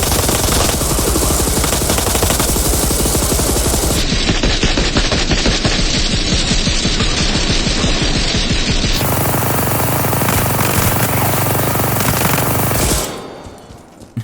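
The PT machine gun in Resident Evil Re:Verse firing continuously for about thirteen seconds, a loud dense rattle with shifting tone, then cutting off abruptly into quiet.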